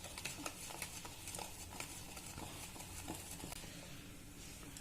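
Eggless vanilla cake batter being whisked by hand in a bowl, a quiet, steady scraping and tapping rhythm that goes on throughout with no talk.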